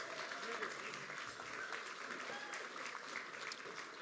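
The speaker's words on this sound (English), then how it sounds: "folks, another round of applause" Audience applause for a band at a cabaret festival night, steady and dense clapping sustained throughout.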